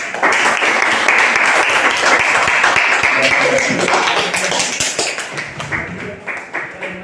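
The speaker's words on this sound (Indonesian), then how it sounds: "betul sekali, tepuk tangan untuk tokoh Maura." A classroom of students claps for a classmate named Maura during a teaching-practice lesson: a steady, dense patter of hand claps that fills the room and starts to thin out near the end, with voices talking over it.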